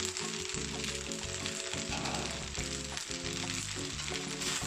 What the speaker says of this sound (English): For a chewy twist, I'm adding some kidney beans